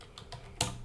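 A few light keystrokes on a computer keyboard, quiet and brief, with a slightly firmer final tap.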